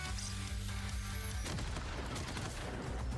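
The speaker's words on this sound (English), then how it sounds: "Gunfire echoes non-stop throughout the parking lot of the large supermarket" Gunfire in the video game Brown Dust 2 echoing through a large supermarket parking lot: a dense, continuous rattle of rapid shots and booms, loud and unbroken, shifting sharply partway through over a low rumbling backdrop.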